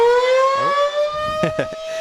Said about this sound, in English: severe weather awareness week. So we get a little break for some sirens